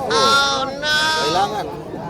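A young goat kid, still nursing, gives two loud, close, quavering bleats in quick succession.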